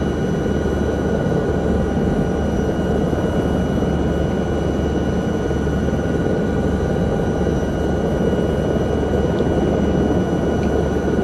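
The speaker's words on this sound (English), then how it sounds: "in VR with helicopters. Just fly low level, just over the treetops." A little Llama helicopter flown low over treetops in a VR flight simulator makes a continuous, loud, even rotor and engine roar with no breaks, heard alone throughout.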